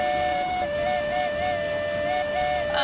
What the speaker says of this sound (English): If we whistle, it'll give us more speed.